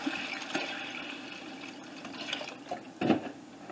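About a quart of water is poured into a cooking pot of collard greens, a soft, steady, close splashing wash that surges briefly near the end.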